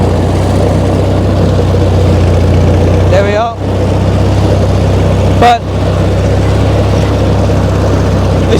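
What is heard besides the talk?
tractor engine running while cutting grass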